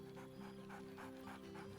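A dog in the Baldur's Gate 3 video game pants in quick rhythmic breaths, close and steady, layered over a soft game ambience hum with no barking evident.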